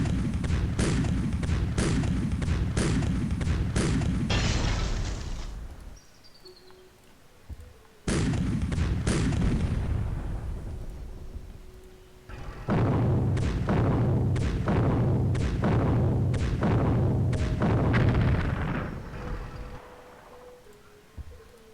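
Heavy artillery barrages from a World War 2 Civilization III battle involving Germany come as repeated booming volleys in two long bursts. A quieter gap separates them, and each burst holds several loud thuds in quick succession.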